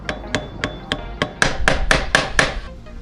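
A hammer strikes the engine of a Dnipro MT motorcycle about ten times in a steady rhythm, sharp and close, with the later blows ringing louder.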